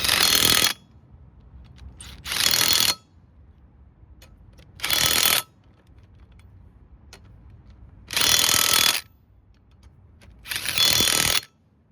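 A torque wrench tightens the wheel bolts on a Peugeot Expert van after a front brake disc and pad change, making five loud, separate bursts of ratcheting with quieter pauses between them.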